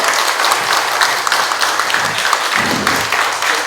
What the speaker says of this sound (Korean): 오늘 토크 긴 시간 함께 해주신 세 분에게 큰 박수 한번 주시기 바랍니다.